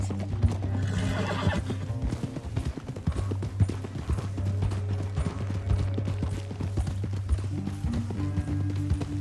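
Horse hooves clip-clop at a gallop and a horse whinnies in Red Dead Redemption 2, with steady rhythmic hoofbeats over a low ambient hum and game music.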